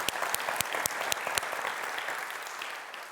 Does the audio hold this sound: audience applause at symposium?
yes